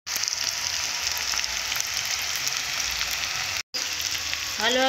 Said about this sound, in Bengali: আলু কষে নেওয়ার পর মাংসগুলো দিয়ে কষে নিয়েছি ভালো করে।